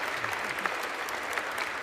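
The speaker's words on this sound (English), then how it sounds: "Clap, clap, clap." Applause rises on the floor of the House of Representatives as a dense, steady clapping from a large crowd, heard alone without speech.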